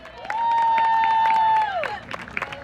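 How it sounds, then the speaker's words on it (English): Crowd at a Grown Folks Stories storytelling night in Bronzeville Winery breaks into applause and cheering, with a loud sustained whoop or shout riding over the clapping before it quickly fades into scattered claps. "Clap it up for Shannon, y'all."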